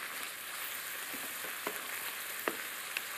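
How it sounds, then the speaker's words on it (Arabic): Rice toasts in a pan with a steady, fairly loud sizzle, broken by a few light scrapes and taps from stirring. "نحمس كامل الرز ديالنا"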